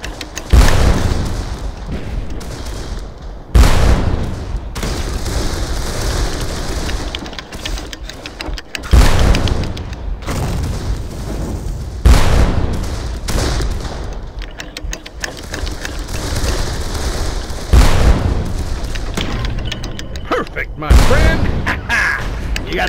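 Cannon fire in the video game Darkest of Days, heard as heavy booms every few seconds, each a loud, sudden blast trailing into rumble, over continuous battle noise with voices talking at times.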